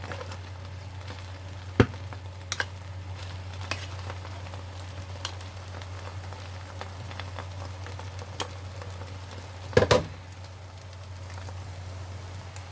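Biko sticky rice is stirred in a hot pan, with a steady low sizzle and hum broken by occasional scraping knocks of the utensil against the pan.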